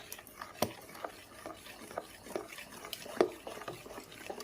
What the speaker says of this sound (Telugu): బాగా కలిపేసుకుందాం.